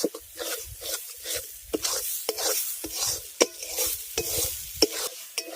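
Chana dal and banana flower being stir-fried in a pan, with a spatula scraping and tossing in a steady rhythm of sharp strokes over a soft sizzle, close and fairly quiet.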